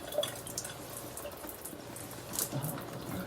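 Cold water runs steadily from a shower panel tower in a third-floor bathroom with somewhat low pressure, a continuous close splashing and trickling stream with a few brighter drips.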